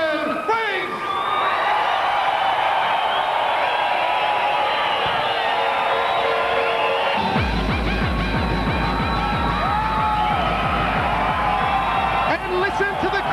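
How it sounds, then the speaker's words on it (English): Loud arena crowd roaring and cheering continuously at a kickboxing world title event as a fighter heads to the ring, with a dense wash of voices and a heavy rhythmic pulse joining in partway through. "listen to the crowd erupt as the Hurricane makes his way to the ring"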